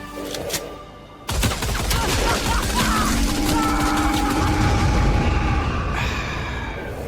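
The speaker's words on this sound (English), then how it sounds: "Like this SG-12 Breaker Assault shotgun." Heavy, continuous gunfire and booming blasts from the SG-12 Breaker assault shotgun in Helldivers 2 build into a loud, dense barrage that sustains for several seconds with mechanical clatter.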